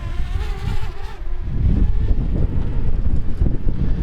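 A DJI Mini 2 drone flies straight out into strong wind, its high buzzing propeller whine fading as heavy, rumbling wind gusts batter the microphone and dominate the rest of the sound.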